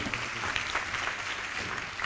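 A church congregation clapping hands for the Lord during a Tamil sermon, a full, continuous burst of many hands in a reverberant hall, steady and moderately loud for its brief length.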